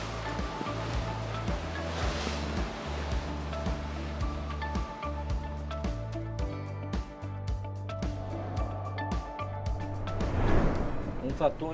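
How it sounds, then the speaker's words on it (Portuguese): A motorboat heads straight into ocean waves, its steady engine drone running continuously while water washes and slaps against the hull, building to a louder surge near the end. "a gente está dando de frente com as ondas"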